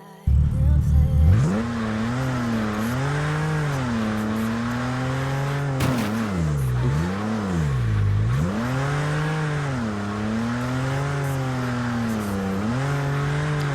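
A Dodge Viper's engine in a racing game revs loudly at close range, its pitch rising and falling in repeated swells as the car accelerates and shifts, with a brief harsh burst near the start and no voices.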